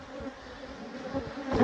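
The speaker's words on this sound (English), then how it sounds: "Look how strong these bees are." Close, steady hum of a honey bee colony at the hive during a fall check. The droning buzz rises slightly toward the end, and a brief knock cuts in at the very end.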